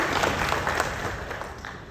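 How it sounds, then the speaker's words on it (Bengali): Audience applause at a Victory Day and International Migrants Day honours ceremony, a steady dense clatter of many hands clapping together for the full two seconds, fading slightly toward the end. "আমরা ওনাকে করতালি প্রদান করব।"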